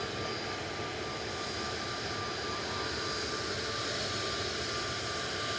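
An airplane takes off at Manchester Airport, a steady loud roar of engines with broadband rushing noise held throughout, no voices.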